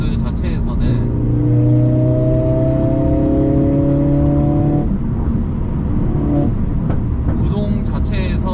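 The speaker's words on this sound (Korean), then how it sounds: "RPM을 좀 왔다 갔다 하면서 팝콘 소리를 좀 들어요" A 2020 Mercedes-AMG CLA45 S engine revs up and holds high with rising tones, then drops back, followed by crackling exhaust pops; loud and close, with someone talking over parts of it.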